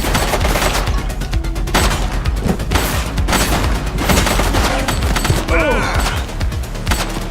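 Loud rapid gunfire from a shooting suspect in the police video game The Precinct, with sharp overlapping shots and heavy bangs in a sustained barrage.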